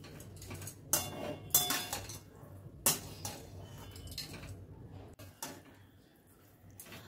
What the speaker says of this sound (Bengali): দিয়ে সব কিছু আবারও ভালো করে মিশিয়ে নিচ্ছি।